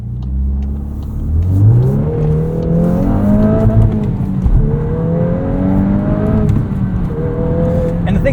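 A 2023 Volkswagen Golf R 20th Anniversary Edition with a manual gearbox accelerating hard in R mode, engine note rising repeatedly through the gears with brief dips at each shift, loud and close from inside the cabin.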